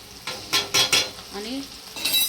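Chopped tomato hits hot oil in a pan and is stirred for chicken keema, with sharp scraping bursts of the spoon against the pot over a soft sizzle.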